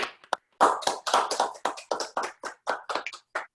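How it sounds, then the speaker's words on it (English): An audience at an online virtual event clapping over unmuted microphones, a dozen or so separate sharp claps in an uneven rhythm, close and clear with silence between them. "I want to hear everybody clap right now."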